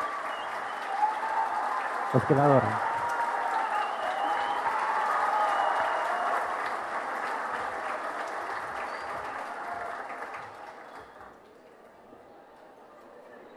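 Audience applause honoring a chef at a 2022 master-class lecture event: a dense, steady wash of clapping from a crowd that holds for about ten seconds before fading, with a voice speaking briefly over it.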